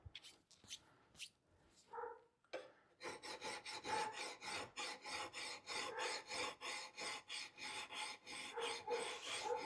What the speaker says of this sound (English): Really doesn't take that long with a nice sharp file.